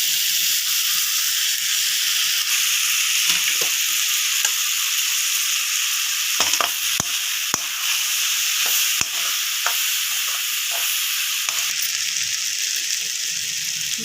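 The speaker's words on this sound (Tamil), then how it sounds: "மிளகாய்த்தூள் போட்டு பாஸ்தா நல்லா வதங்கிச்சு" Boiled pasta with tomato, capsicum and chili powder sautéing in a pan, a steady sizzle and hiss with repeated sharp scraping stirs and clatters of the spoon, close and loud.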